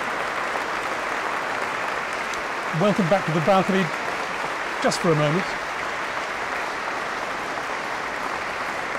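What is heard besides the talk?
audience applause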